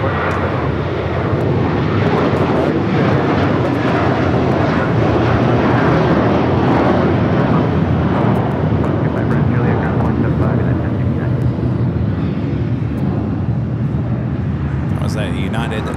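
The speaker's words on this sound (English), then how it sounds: "is a United 757 at 300 flight heading to Honolulu." A United Boeing 757 at LAX makes a loud, continuous roar that holds steady for the full length, dense and close, with no break in the noise.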